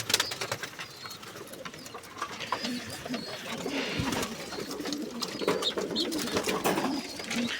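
Young post pigeons coo softly inside a coop. Their low murmurs run steadily beneath brief wing and perch noises, with several birds calling at once.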